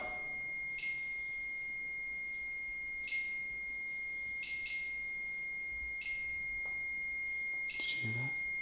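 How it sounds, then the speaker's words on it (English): A REM pod ghost-hunting device beeps in a quiet room of the old Atwood Nursing Home at night, giving short, evenly spaced high tones roughly every second or so, fairly faint against a steady electronic hiss. "If you make that stop beeping, we'll get out."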